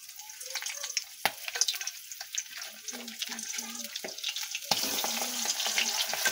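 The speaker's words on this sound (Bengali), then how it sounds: "দেখো আমরা ওগুলোকে তেলের ওপর দিয়ে দিচ্ছি, এবার ভেজে নেব" Prawns sizzling in hot oil for a spicy banana-flower prawn curry, a steady crackling fry with scattered pops and clinks of a stirring utensil; a louder, denser sizzle swells near the end.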